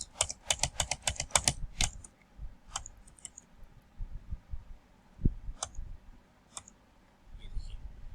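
Quick keystrokes on a computer keyboard, typing numbers for a matrix program: a rapid burst of clicks at first, then sparse single taps spaced apart, close and fairly quiet.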